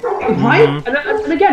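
Dogs barking and whimpering in the background while fighting over a chew stick, with short yips and bow-wows running under close conversation from several people.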